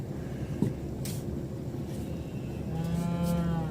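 A cow moos with a drawn-out, harmonic call near the end, over a steady low truck engine rumble; a brief lower moo sounds earlier.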